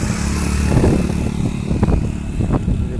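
A motorcycle on a mountain road toward Babusar Top struggling to pull uphill, its engine laboring with an uneven throbbing drone and a few sharper bursts of revving, close and loud.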